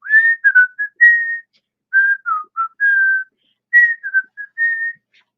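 A person whistles a cheerful tune alone, with short phrases of clear pitched notes broken by brief pauses, close and fairly loud.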